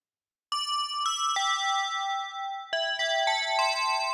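Bell tones from an FM bell patch on a Sonicware Liven XFM synthesizer, a sequence of bright, ringing struck notes with long sustained decays, each new strike layering over the last, clear and alone.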